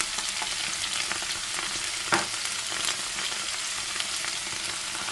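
Onions and garlic sizzling in a hot pan, a constant close crackle with a brief louder burst of stirring midway and no voices.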